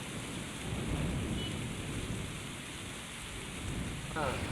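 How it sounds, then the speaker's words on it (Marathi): Steady heavy monsoon rain in Mangaon, Raigad, pours down in a dense, continuous roar with a faint distant rumble, no voices present. "माणगाव इथे जोरदार पाऊस बरसलेला आहे"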